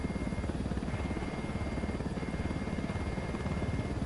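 Recon drone launching in a tactical shooter video game, a steady whirring rotor drone with a dense, continuous low hum and buzz at even loudness throughout, with no talking.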